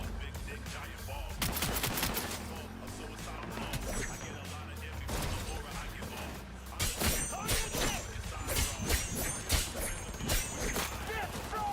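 Rapid bursts of gunfire and automatic weapon fire in the video game Cyberpunk, dense and loud throughout, with crashes and impacts mixed in and a voice speaking over parts of the firefight.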